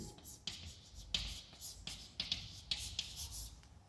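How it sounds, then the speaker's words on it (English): Chalk or marker strokes scratch across a board in short bursts, some quick taps and swipes, close and moderately quiet with no talking. "So I will write here electric field"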